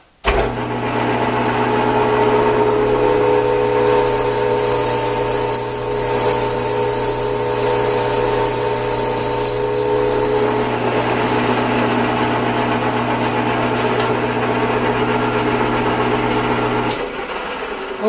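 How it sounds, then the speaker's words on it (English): Drilling a 5/8 inch deep hole with a 3/4 inch drill, a loud continuous machine hum and whine that holds steady for most of the clip before cutting off near the end. "Now let's drill that 5/8 hole."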